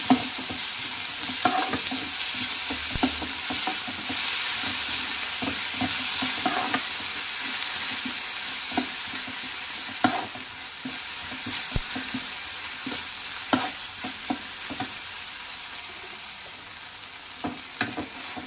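Tomato, onion, sliced capsicum and a little salt fry and sizzle steadily in a pan, a constant hiss with scattered scraping stir strokes throughout, close and fairly loud, no voices.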